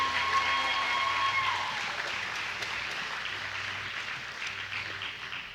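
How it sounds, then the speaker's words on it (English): An audience at a county fair queen and princess pageant in Indiana applauds the contestants, a dense steady wash of clapping that is loud at first and slowly tapers off. "Let's give them all a round of applause."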